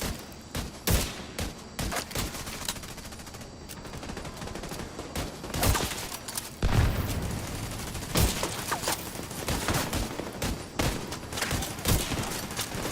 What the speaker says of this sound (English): I'm trying to snipe him from quarter over here.